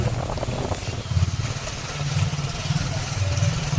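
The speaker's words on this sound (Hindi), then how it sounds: "हमारे भाई कोमल गाड़ी चला थे" A vehicle engine runs at a steady mid-pitched drone while driving, close and fairly loud, with some road rumble and faint voices in the background.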